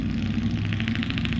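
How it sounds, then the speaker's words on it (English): A loud truck passes near a graveyard, its heavy low engine rumble and droning motor noise filling the scene steadily with a faint rhythmic pulsing above, close and alone without voices. "We got a nice loud truck going by."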